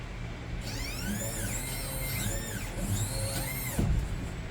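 The power steering pump on a WorldCat boat whines while its low fluid is bled after a battery upgrade. Rising and falling robotic tones sweep repeatedly over a steady mechanical hum.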